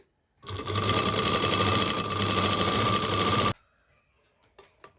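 Sewing machine stitching fabric, running in one loud, fast, continuous burst for about three seconds before stopping abruptly, followed by faint handling noises.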